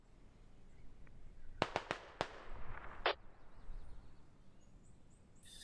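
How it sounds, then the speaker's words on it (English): Smoke barrage artillery in the tactical shooter game Squad, heard as a rapid cluster of sharp, distant cracks and pops in quick succession, then one more isolated burst over a steady background hush. "Smoke barrage."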